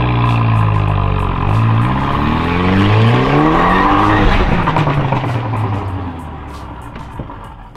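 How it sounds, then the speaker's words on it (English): An Audi TT 1.8T launches hard up a driveway, a loud close engine roar with rising gear-by-gear pitch sweeps and tire noise, fading somewhat toward the end. "let's do a little launch up the driveway"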